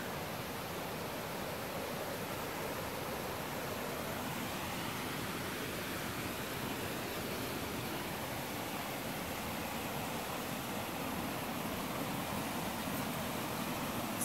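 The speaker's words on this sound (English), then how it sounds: "Actual waterfall." Waterfall at Fall Branch Falls in the Georgia mountains, a steady broadband roar of falling water filling the whole clip at an even, continuous level with no talk.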